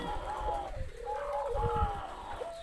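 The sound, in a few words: spotted dove cooing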